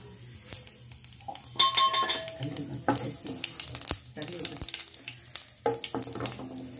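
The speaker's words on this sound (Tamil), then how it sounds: "இப்போ தாளிக்கிறதுக்கு சோம்பு, பட்டை, கிராம்பு, கல்பாசி, அன்னாசி எல்லாம் போட்டு தாளிச்சிடும்." Crackling, popping sizzles of fennel seeds, cinnamon, cloves, stone flower and star anise hitting hot oil for an egg curry, with clinks of a utensil stirring in the pan, fairly close and moderately loud.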